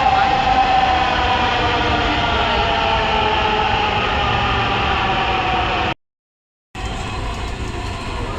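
A metro train's loud, steady rumble and rail roar fill the space without letup, cutting out briefly before resuming.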